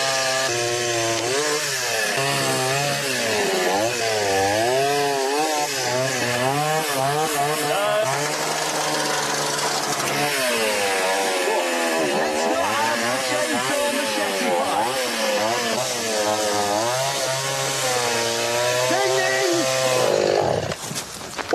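A chainsaw runs loud and close in Bolivia, its engine revving and wavering continuously before cutting out abruptly at the end.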